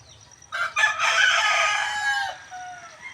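A single rooster crows loudly and close by, one long drawn-out call with a few faint clucks around it.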